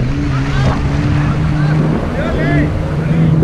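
A motorboat drones loudly at sea off Pattaya while towing a banana boat, its engine hum steady under wind buffeting and wave splashes, with excited voices calling out over it.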